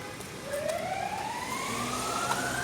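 A police siren wails with a rising tone at a busy Sunday open-gate market, steady and moderately loud, heard amid general crowd background.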